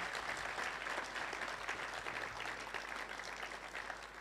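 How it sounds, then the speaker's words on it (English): Steady, fairly faint applause from a crowd at a school of ministry graduation ceremony, with a low hum running underneath throughout the clip. "Let's clap for them"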